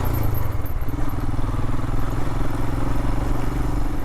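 A Royal Enfield Himalayan motorcycle ridden on gravel in second gear, with a loud, steady thumping engine drone and pulsing exhaust beats close up, accompanied by a faint crunch of tyres, and no one talking.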